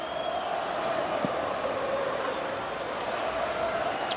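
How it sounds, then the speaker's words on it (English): A big baseball stadium crowd at Coors Field murmurs and cheers from the right field upper-deck bleachers in a steady, distant wash of voices, with occasional faint claps and a thump. "crew getting loud in the right field bleachers, upper deck"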